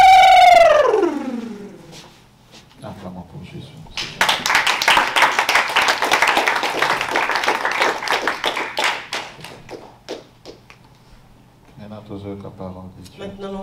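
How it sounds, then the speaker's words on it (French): A church congregation bursts into several seconds of dense clapping and cheering for Jesus. A voice rings out just before it, and talking resumes as the applause fades. "Acclamons pour Jésus."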